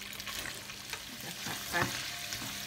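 Shrimp stir-frying in a pan, a close, continuous hiss of sizzling oil with a few light scrapes of the spatula and one brief louder clatter, no talking.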